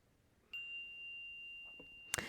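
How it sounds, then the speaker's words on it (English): A single meditation chime is struck once, ringing out clear and sustained with a long, steady decay in a quiet room before a soft rustle and a sharp clatter at the end. "let's just arrive fully to this practice with the sound of the chime"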